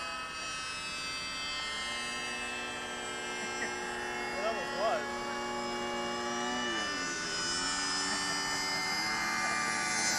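A 1/4 scale Super Cub RC model airplane drones overhead as it sheds altitude, its engine a steady buzzing whine with gliding pitch shifts, while someone talks over it.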